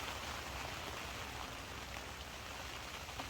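Steady rain falls at a lake in Croatia during a spring carp fishing trip, a soft even hiss of drops on the surface, faint and continuous with no voices.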